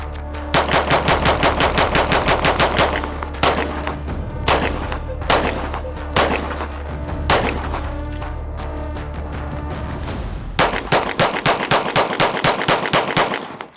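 Rapid automatic gunfire from a resurrected G9 gun, loud and close, in long sustained bursts with a few brief gaps between strings of shots.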